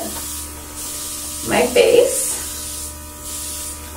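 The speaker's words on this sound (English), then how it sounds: "I'm just going to lightly spray some bronze where the sun would naturally hit" A makeup airbrush sprays bronzer onto a face in a short, soft hissing burst over a steady low hum, with someone talking just after.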